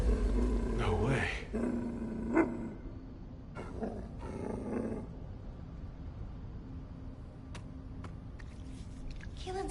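A dog growls low and rough, with roaring bursts near the start, inside the sci-fi shooter game The First Descendant, while voices talk over the game audio.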